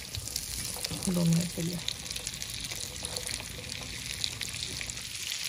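Raisins roast in melted butter over a camp stove, a soft steady sizzle and faint bubbling that runs throughout while a person speaks briefly near the start.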